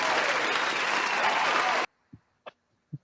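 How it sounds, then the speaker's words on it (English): A brief burst of enthusiastic applause fills the room at a casual talk show, then cuts off abruptly, leaving near silence broken by three soft, separate knocks. "You get an applause for that, sir."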